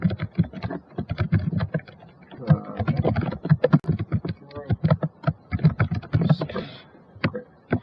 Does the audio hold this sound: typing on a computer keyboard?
yes